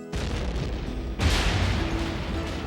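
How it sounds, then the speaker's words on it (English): Underwater torpedo blasts against a river gunboat's hull during the Vicksburg campaign: a dull rumbling roar, then a second heavier boom surging midway and fading into a long low rumble, with no voices. "2 underwater explosions blasted great holes in the boat's hull."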